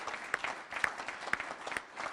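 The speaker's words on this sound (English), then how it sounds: "How about giving a big round of applause to all the construction workers?" An audience at a government news conference applauds construction workers, a short burst of dense clapping with a few sharper claps standing out, fairly close and steady.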